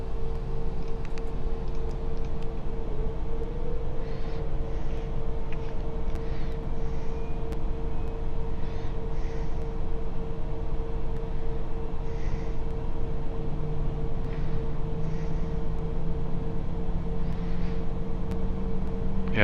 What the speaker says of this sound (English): So, left engine started, right engine.